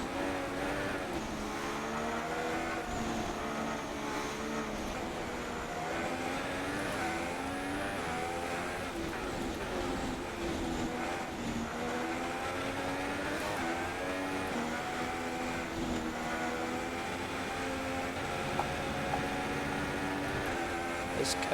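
A Formula 1 car engine whines steadily through a wet race in the PC game F1 2016, its pitch rising and falling with throttle changes, at a moderate, even level throughout.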